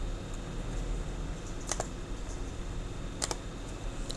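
Keystrokes on a computer keyboard while entering cells in an MS Excel spreadsheet, a soft, steady patter of close, quiet clicks with a couple of sharper taps standing out over a faint background hum, with no talking.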